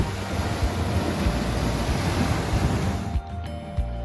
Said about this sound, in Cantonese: 呢個小破邊之間嘅浪好勁啊！